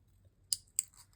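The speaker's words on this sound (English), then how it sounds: "I'm just going to trim this a little bit" Scissors trimming a paper painting cutout: two crisp, separate snips close by in a quiet room with a low background hum.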